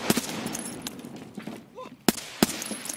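Gunfire in Escape from Tarkov, several sharp, fairly distant shots cracking out irregularly, with two louder reports close together near the end over quiet background noise.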